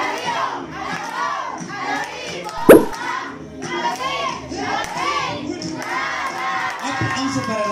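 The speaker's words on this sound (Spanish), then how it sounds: "nos vamos a dar una porra bien fuerte para la bebé" A crowd at a baby shower held in quarantine shouts a loud rhythmic chant in unison for the baby, with phrases repeated in bursts, one sharp clap or thump partway through, and voices filling the whole stretch.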